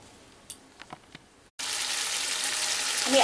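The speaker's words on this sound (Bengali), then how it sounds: "আমি আরও 1 মিনিট পর্যন্ত কষিয়ে নিয়েছি।" Pointed gourd curry sautéing in a vegetarian home kitchen pan: a few soft clicks and stirs, then an abrupt steady sizzling hiss that continues loud to the end.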